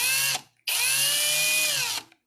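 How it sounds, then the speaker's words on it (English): An electric drill whirs loudly in two bursts, a short one and then a longer steady run, while a bead and wire bangle is being made, with no talking. "now I'm going to turn on the drill, and you have to kind of go slow"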